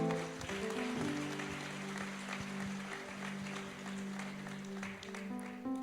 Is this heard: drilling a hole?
no